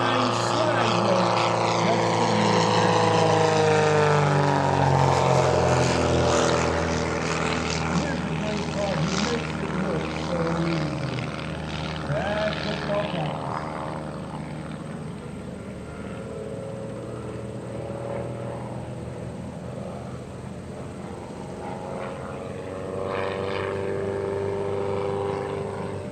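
A propeller plane's engine drones and whines at an airshow, rising and falling in pitch as it performs aerobatics nearby, then the power is cut as it slips in to land, while someone talks over it.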